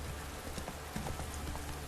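Roach, the horse in The Witcher 3, gallops along in steady clip-clop hoofbeats, close and fairly loud over a constant background hiss.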